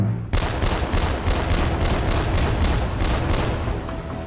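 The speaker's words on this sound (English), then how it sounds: "Now that the 30mm guns are zeroed in, they unleash their final rounds." 30mm guns fire a rapid string of heavy rounds at a target, about a dozen sharp evenly spaced bursts over a continuous low booming rumble, loud and close.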